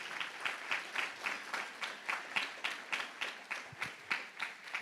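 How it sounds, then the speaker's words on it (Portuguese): A church congregation claps in a steady rhythmic beat, hands striking together in unison roughly twice per second, moderately distant and even throughout. "Vamos aplaudir a Deus pelas suas vidas"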